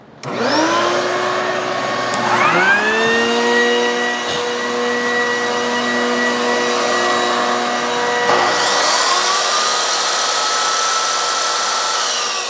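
A shop vacuum, a leaf blower and a miter saw run together off a portable home power station, a loud steady whine that shifts pitch as each tool spins up, continuous and close with no talking.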